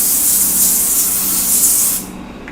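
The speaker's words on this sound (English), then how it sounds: "Let's start by spraying this down a little bit with a little bit of spray." Cooking spray hisses onto a baking pan for crackers in one steady, loud, close burst of about two seconds, then cuts off.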